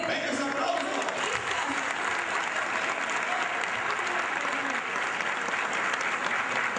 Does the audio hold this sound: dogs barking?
no